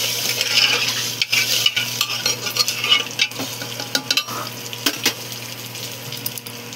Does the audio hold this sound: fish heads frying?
yes